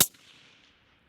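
A single loud, sharp rifle shot from a Savage Impulse bolt-action chambered in 300 PRC, fired at long range outdoors, opens with a hard crack and then trails off into a faint, fading echo with no talking.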